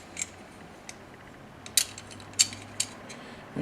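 Slide and barrel bushing of a Yugoslavian M57 Tokarev pistol being reassembled, a few sharp metallic clicks and clacks spaced irregularly, close and clear against a quiet room.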